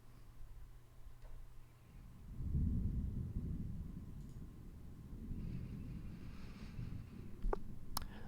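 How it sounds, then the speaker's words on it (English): Thunder sound effect used for a tabletop role-playing game, a low, distant rumble that swells after a couple of seconds and rolls on at moderate level under faint ticking. "And you begin to hear weather outside."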